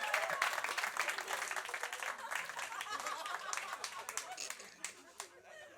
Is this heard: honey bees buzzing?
no